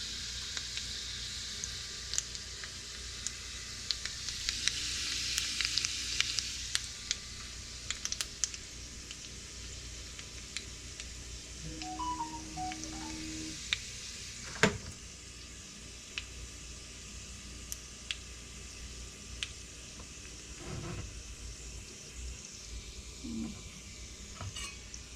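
Cumin seeds and garlic sizzle in a pot for dal, a soft steady frying hiss with occasional clicks and light clatters of a utensil.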